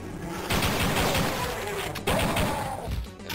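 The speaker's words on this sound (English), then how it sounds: "And of course, this is a grenade launcher" A grenade launcher fires in the Nintendo 64 shooter Duke Nukem 64, giving a run of loud, close blasts and crashing explosions in quick succession, with a voice talking over part of the barrage.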